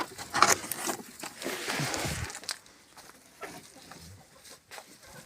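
Chickens clucking close by in a village farmyard at feeding time, with scattered short calls over a busy rustling background that quiets partway through.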